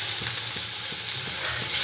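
Onion paste sizzling in hot oil in a pan over high flame, a bright steady frying hiss with soft periodic scraping thumps as it is stirred, close and without talk.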